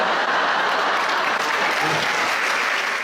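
Audience at a stand-up comedy show breaking into dense, sustained applause, a loud, even wash of clapping that fills the room from start to finish.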